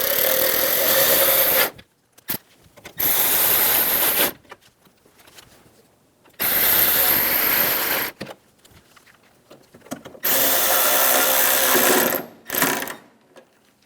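A power drill runs in several sustained bursts, driving the grille screws on a GMC K1500 pickup during a headlight replacement, loud and close, with quiet pauses between runs.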